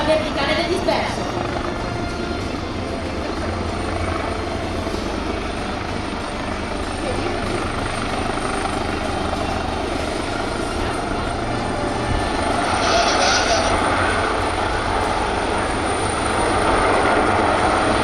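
An HH-139B rescue helicopter hovers over an air show, its steady rotor and turbine roar filling the whole stretch at close range, with faint voices and radio chatter mixed underneath.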